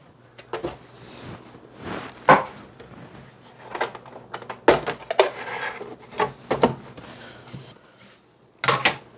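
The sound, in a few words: opening plastic Y-axis cover of Bambu Lab A1 printer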